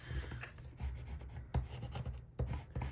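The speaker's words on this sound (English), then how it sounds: "I'm gonna push those down real quick as I'm thinking of it with my bone folder" A bone folder presses stickers down onto planner pages with soft, scratchy rubbing strokes in a few short bursts, close and fairly quiet, with no talking.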